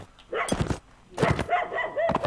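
Dogs in Mount and Blade bark in a few close, sharp bursts, with a pause in between and a second flurry of yips and barks.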